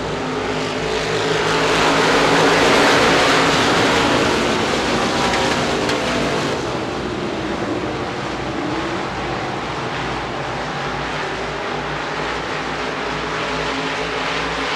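A pack of sixteen modified race cars roars off at the green flag at Devils Bowl Speedway, a loud sustained engine drone that swells over the first seconds and then holds as a dense, continuous blare.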